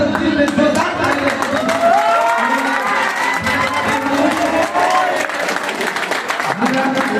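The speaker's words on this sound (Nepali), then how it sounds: "सबैजना हात खोलेर दिलले जोरदार ताली" A school farewell program audience, including children, claps and cheers loudly, with shouting and crowd voices mixed into the sustained applause close by.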